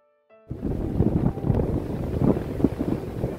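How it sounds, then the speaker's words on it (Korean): Strong wind gusts across the shore of Lake Biwa in Shiga, Japan, roaring loudly against the microphone in uneven, buffeting surges after a short quiet tonal opening. "카메라를 고정시키기 어려울 정도로 엄청난 바람이 불었는데요"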